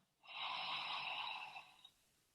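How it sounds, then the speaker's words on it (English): One deep breath drawn in and let out, close and soft: a steady airy rush lasting over a second that tapers away, alone in a quiet room. "Go ahead and take a deep breath in and exhale."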